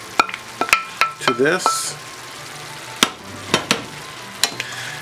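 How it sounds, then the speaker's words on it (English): Orecchiette pasta goes into a pan of cooked broccoli and sausage, bringing a brief sizzle, then a utensil clanks and scrapes against the pan in sharp, separated knocks while someone says a few words. "I'm going to add the pasta"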